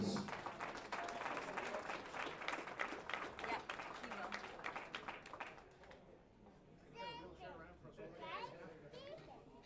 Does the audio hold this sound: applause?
yes